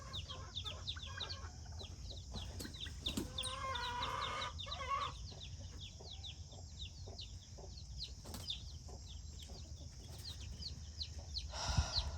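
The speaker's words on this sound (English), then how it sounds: "There's the other leghorn like, hey, what's going on?" A Leghorn hen on a farm clucks repeatedly in short, soft bursts amid steady background noise, with other fowl faintly audible, fairly close and continuous throughout.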